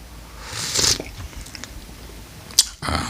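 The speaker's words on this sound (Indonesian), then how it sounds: "Oke, kita seruput dulu ya." Two short airy slurps of hot black espresso-style coffee freshly brewed with hot water, close to the mic; the first is longer and louder, the second a quick sharp sip near the end, with no talking.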